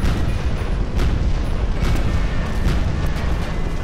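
Ship cannons fire repeatedly during an airship battle in the game Guns of Icarus, a dense, continuous rumble of booming shots with several sharper reports standing out, loud and close throughout.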